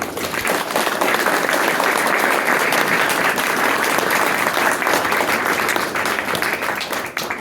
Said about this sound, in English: if we could just give another round of applause